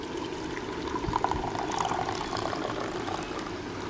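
Coffee is poured over two pieces of cake, a steady, soft liquid stream close by that runs for a few seconds without voices.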